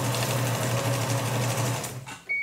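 A sewing machine stitches a line across a woven feed sack bag, running loud and steady for about two seconds before it stops, leaving a couple of small clicks.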